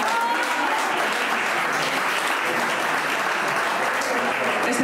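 A festival crowd in Marcilla claps loudly and continuously at a neckerchief presentation during the 2023 town fiestas, a dense, even roar of applause with faint voices beneath.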